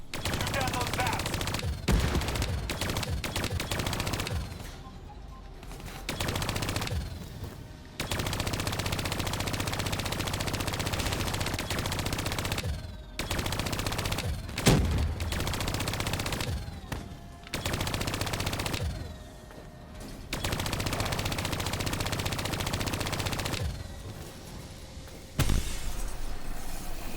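Gunfire in Call of Duty Black Ops III, loud near bursts of automatic and rapid shots in repeated volleys with short pauses between, mixed with impacts, shattering and game noise.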